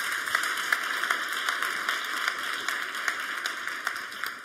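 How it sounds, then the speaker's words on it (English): An audience at a central banking conference gives a round of applause, a steady dense patter of many hands clapping in a hall that holds evenly for several seconds before tapering slightly. "Round of applause."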